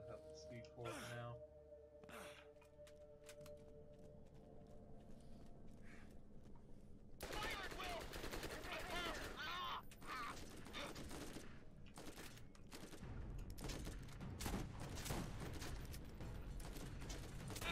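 Bursts of rapid gunfire in Borderlands, aimed at an enemy behind a turret shield, crackle in dense volleys that grow louder and busier in the second half, with sharp mechanical clicks and chirps mixed in.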